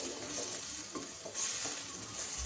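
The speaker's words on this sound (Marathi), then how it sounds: "आता हा सर्व मसाला जो आहे तेल सुटेपर्यंत छान असा परतून घ्यायचा आहे" Masala for Maharashtrian patwadi rassa sizzles steadily in oil in a pan over a low flame, a dense continuous frying hiss with occasional stirring scrapes, close and loud with no talking.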